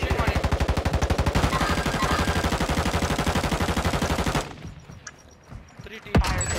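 Sustained rapid automatic gunfire in Call of Duty Warzone 2 on Ashika Island, a fast even rhythm of loud close shots for about four seconds, then quieter scattered sounds and a single distant shot.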